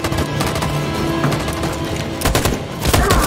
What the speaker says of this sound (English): That machine gun is taking down everything that moves.